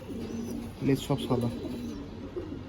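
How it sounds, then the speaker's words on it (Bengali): A Majra Shakdam pigeon in a loft gives a few short, low coos, close by and interleaved with people talking. "এটা মাজরা শাকদম পায়রা, চটিয়াল।"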